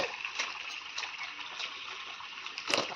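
Water poured over a mound of clay being soaked for a mud cooking stove, a steady faint wash of trickling and gushing liquid with a few brief splashy surges, close by and alone.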